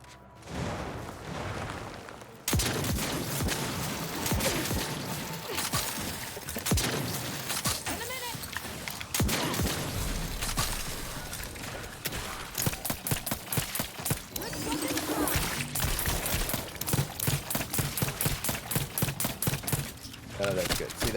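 Rapid bursts of game gunfire from Outer Worlds 2, crackling in dense repeated volleys through most of the stretch after a quieter start, loud and close, with a player talking over parts of it.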